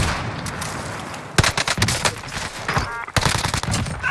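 Gunfire in the Warzone video game, bursts of rapid automatic shots from an Owen gun class setup in two loud clusters, dense and close, over a continuous background of game ambience.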